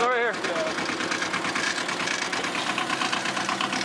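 Tractor engine running steadily as the tractor is driven on a farm, a loud continuous mid-low drone with a voice speaking over its start.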